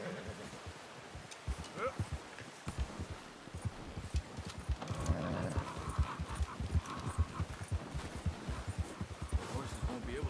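Horse hooves clip-clopping in Red Dead Redemption 2, a quick irregular stream of close hoofbeats over rustling and faint ambient noise, at moderate loudness with no clear neigh.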